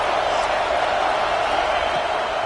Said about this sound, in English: This crowd knows this defense needs them right now.